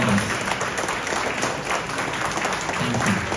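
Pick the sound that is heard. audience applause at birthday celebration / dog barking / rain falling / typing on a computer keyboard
audience applause at birthday celebration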